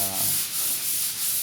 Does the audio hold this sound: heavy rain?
no